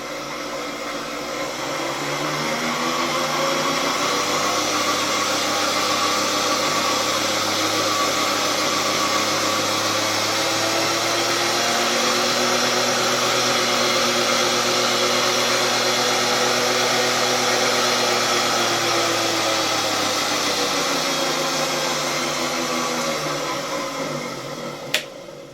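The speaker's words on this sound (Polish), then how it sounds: "Czyli wiemy, że sama froterka jest sprawna, silnik działa" A 1958 RFSG type B-1 three-brush floor polisher motor hums steadily for about twenty seconds, swelling up and winding down at the ends, with a slipping drive belt, loud and close with no talk.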